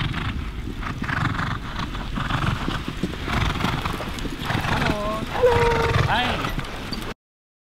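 Horses in a racing stable, with steady hoof clip-clops on hard ground and a clear neigh near the end, plus background stable bustle and a person talking throughout.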